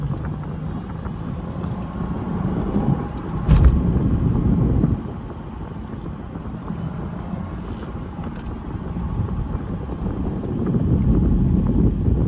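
A 2014 Lexus IS350 F Sport's naturally aspirated 3.5-litre V6 hums and drones while driving, with wind buffeting the microphone and the engine note rising briefly near the start and end.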